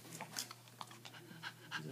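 A dog pants nearby in quick, soft, breathy bursts that come in an irregular rhythm, faint against a low steady hum.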